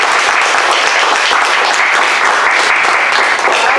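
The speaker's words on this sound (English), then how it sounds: "Let's give one more round of applause for the cast of The Tempest." Dense, loud audience applause for the cast of a college production of The Tempest, a continuous roar of many hands clapping close by with no gaps, steady throughout.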